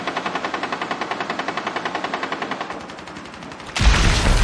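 Rapid automatic gunfire in the video game Rainbow Six: a loud, evenly spaced stream of shots for several seconds, which tapers off and then gives way to a sudden heavier blast at the end.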